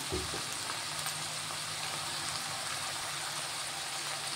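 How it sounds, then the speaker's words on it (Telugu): Cauliflower pieces fry in a pan for a home-style curry, giving a steady, close sizzle with a soft hiss throughout and a brief stirring clatter at the start. "ముక్కలు ఫ్రై అవుతున్నాయండి"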